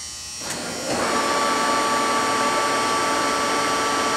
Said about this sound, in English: So we're going to run through some spindle speeds on the Lucas 441B-72.